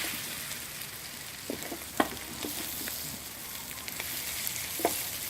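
Chorizo slices, bell pepper, onion and garlic sautéing together in a pan for paella, a soft steady sizzle with a few light clicks of stirring scattered through, close and fairly quiet, no talking.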